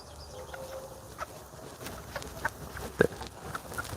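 Chickens cluck in a backyard garden, giving a few scattered, faint calls and one sharper squawk over a quiet outdoor background with no talking.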